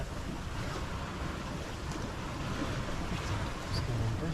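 Wind and waves while a sailboat moves under sail with no engine, a steady close rush of wind noise and water wash with faint voices underneath.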